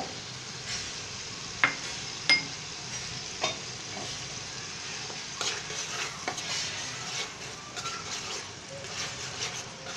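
Pangas fish curry with green peas being stir-fried in a pan: a steady, soft sizzle runs throughout, broken by a few sharp clicks and scrapes of a spatula against the pan.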